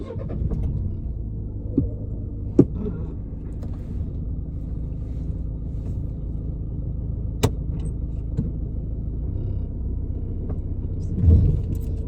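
A car reverses slowly during a driving-test manoeuvre in Loughton, heard from inside as a low, steady engine rumble with occasional clicks and knocks, and no talk.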